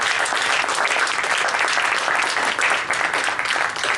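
An audience at an Islam and Muslims talk breaks into dense, energetic applause, a steady close roar of clapping that holds for several seconds with no speech over it.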